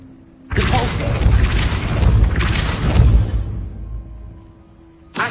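Depulso force spell cast in the Hogwarts Legacy video game, a sudden loud whooshing blast with a crashing rumble that swells twice and fades, then a brief new burst at the end.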